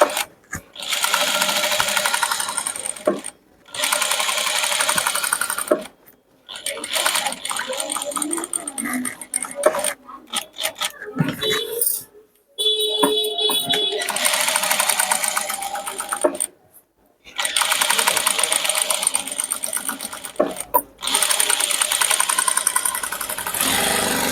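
A sewing machine stitching a chudidar top, loud close whirring runs of rapid stitching broken by brief stops, with someone talking between and over the bursts.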